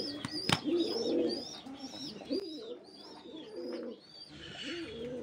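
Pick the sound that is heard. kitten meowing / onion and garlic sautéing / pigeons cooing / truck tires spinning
pigeons cooing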